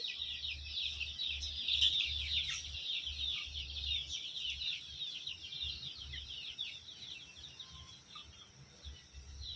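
Young chicks of a pure Kattu rooster breed, about three months old, chirp and cheep continuously in a steady high twittering chorus, with a low pulsing thump running underneath throughout.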